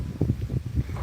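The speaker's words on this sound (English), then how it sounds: "it was pretty windy out here" Wind buffeting a microphone outdoors near the water while out boating, heavy low rumbling gusts pulsing irregularly and loudly across the short stretch, with no voices.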